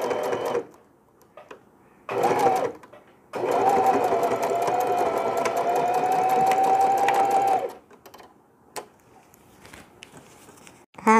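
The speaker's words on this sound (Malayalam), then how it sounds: "പ്രസ് ചെയ്ത് അടിക്കുകയാണ്." A sewing machine stitches a hanging laundry bag for a baby, running in a short burst and then a longer steady whirring run of about four seconds, close and clear, with quiet pauses between.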